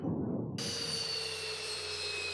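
Zibo 737-800 jet engines in X-Plane 11 spooling down after landing, a steady close whine with a broad low rumble that stays loud and even, following a brief burst of rougher noise at the start.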